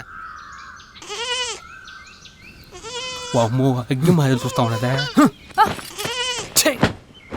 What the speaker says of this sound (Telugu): ఈ గొర్రె పిల్లకి కేకలు ఎక్కువ అవుతున్నాయిరా